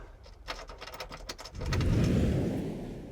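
A car engine cranks and catches partway through, then settles into a steady, close rumbling idle after some brief mechanical clicks.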